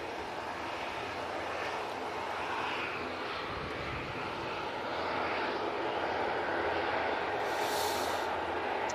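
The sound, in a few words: EasyJet airliner engines at Manchester Airport, lined up for takeoff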